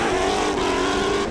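Drift cars race along the Repco wall at a D1NZ grand final, engines howling loud and close in a sustained high-revving roar with a hint of tire squeal.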